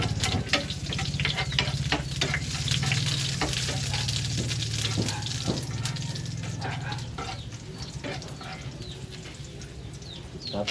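Garlic hits hot oil in a pan and sizzles steadily, with crackling pops and stirring scrapes over a continuous frying hiss, close up and fairly loud.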